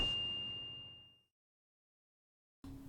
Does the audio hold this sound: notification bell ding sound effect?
yes